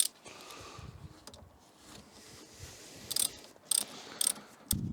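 Socket wrench ratcheting on a Renault Mégane Classic, soft quiet clicking with a few sharper bursts toward the end, close by with no speech.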